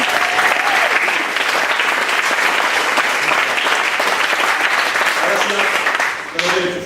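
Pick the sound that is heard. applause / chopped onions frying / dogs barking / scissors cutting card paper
applause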